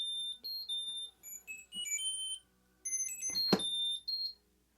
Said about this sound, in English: I can play a sound.